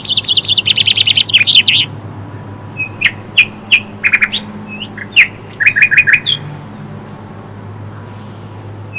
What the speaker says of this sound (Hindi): टीचर आपको चिर्प जो चिड़ियाँ बोलती हैं उसकी आवाज़ सुनाएंगी